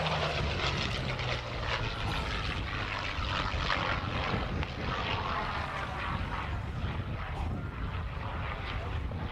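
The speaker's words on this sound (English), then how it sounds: "lots of power over the top of that loop. Wonderful sound from that V12 engine." A Curtiss P-40 Kittyhawk's V12 engine roars steadily and loudly through a loop at the Yeovilton Air Day flying display, a continuous full-throated drone with no pauses.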